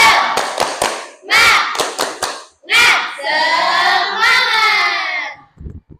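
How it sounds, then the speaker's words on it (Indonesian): A classroom of schoolchildren performs the rhythmic spirit clap: quick patterned bursts of hand claps, then the group shouts a loud, drawn-out chant in unison. "Kita tepuk semangat dulu"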